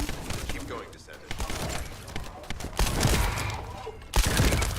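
Gunfire from The First Descendant video game rattles in loud, dense bursts, with steady volleys of shots and a heavy low rumble of game sound throughout.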